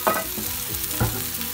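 Chopped tomatoes go into softened fried onion in a pan, giving a steady close sizzle with a couple of soft stirring scrapes and no talking.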